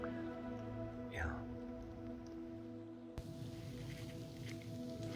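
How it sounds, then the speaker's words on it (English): Light rain beginning to fall outdoors on an autumn day, a soft steady patter of drops on surfaces with a continuous low hum in the background and a faint brief voice. "See, it's just starting to rain now."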